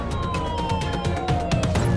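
An ambulance siren sounds in a PS5 game, a loud continuous tone gliding slowly downward over a rumbling engine and road noise.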